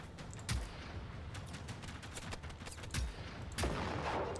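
Rapid gunfire crackles in a shooter game fighting machines, with bursts and sharper loud shots standing out over dense combat noise.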